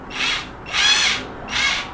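A cordless power drill whirs in three short high-pitched bursts with brief pauses between, close and loud in a quiet room.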